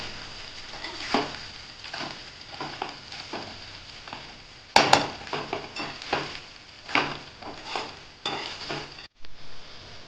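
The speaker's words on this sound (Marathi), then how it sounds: "पोहे आता चांगले मिक्स करून घेऊयात" Poha stirred in a metal pan with a spoon, repeated scraping and clinking strokes in an irregular rhythm over a faint sizzle, close up with no talk.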